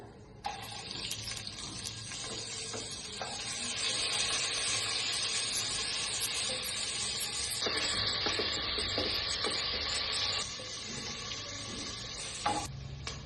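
Onion dropped into hot oil with cloves, black and green cardamom, bay leaves and caraway, a loud steady sizzle swelling after the addition and continuing with faint stirring clinks, no voices.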